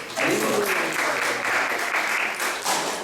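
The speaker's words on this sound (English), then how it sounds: "let's give a round of applause for her" A Sunday class audience at the ISKCON temple in Atlanta breaks into a round of applause for a woman, the clapping rising quickly and staying lively, with voices calling out over it.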